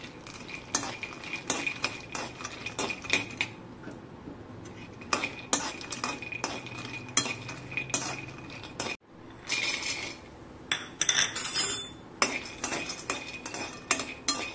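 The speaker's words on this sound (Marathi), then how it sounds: "आता आपण भाजून घेऊ काजू." Cashews roasting in a pan, a spoon stirring and scraping the nuts against the metal in a repeated, close rhythm, with a brief pause midway before the stirring resumes.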